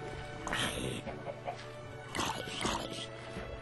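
Chickens clucking in the Minecraft video game, a few short game-style clucks in two bursts over steady background noise, with no talk.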